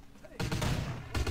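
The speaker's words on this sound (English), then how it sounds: "Dodging bullets." Gunfire in Vampire The Masquerade Bloodlines, a dense burst of shots that starts abruptly and runs on with a sharp fresh volley near the end.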